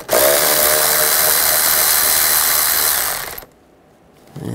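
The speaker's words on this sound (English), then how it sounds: "We're going to use a 10 millimeter socket, loosen up this worm clamp." A power tool runs steadily for about three seconds, driving a 10 mm socket to loosen a worm-drive hose clamp on a 2004-2009 Toyota Prius engine, then stops into near silence before a faint noise returns.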